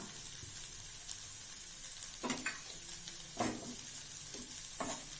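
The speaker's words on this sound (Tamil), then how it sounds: "தூவி ஒரு கிளறு கிளறுனா போதும்" A spoon stirs green peas sundal with grated coconut in a pan over a steady sizzle, with a few distinct scraping strokes, close and moderately quiet.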